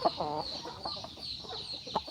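A chicken clucks a few times outdoors, fairly faint against steady background noise and a high insect-like whine.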